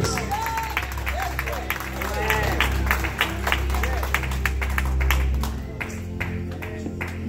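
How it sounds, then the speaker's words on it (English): A church congregation claps hands in praise, sharp irregular claps mixed with loud chatter, voices and low hum, swelling through the middle before thinning out near the end. "Clap your hands and give him praise."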